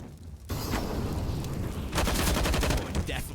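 Counter-Strike: Global Offensive gunfire during a Nuke map match: rapid bursts of automatic shots crackle loudly through the clip, with a denser volley in the second half over continuous game noise.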